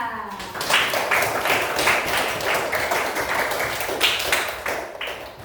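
Primary schoolchildren clap their hands during a classroom lesson at SDN Nembol 2: a run of rapid, evenly spaced claps from a group, fairly close and steady, with little talk over it.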